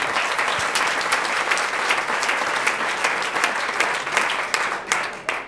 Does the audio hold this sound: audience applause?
yes